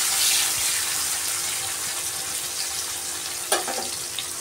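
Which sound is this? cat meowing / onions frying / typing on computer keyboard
onions frying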